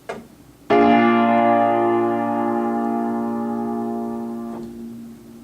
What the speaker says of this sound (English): if I were to play a dominant 7th chord,